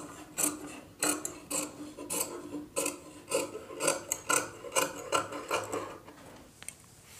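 Scissors cut through blouse fabric during a tailoring class, giving a close run of rhythmic crisp snips and rasping strokes for several seconds, with no talking.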